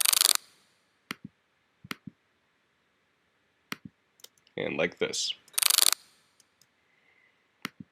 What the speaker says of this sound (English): the next sample I have here is a wind-up toy that I recorded in Target with my iPhone